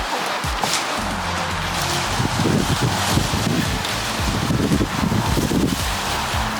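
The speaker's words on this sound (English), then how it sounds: "Incredibly windy as hell." Strong wind roars steadily with rustling and flapping noises, loud and close throughout, a low rumble underneath.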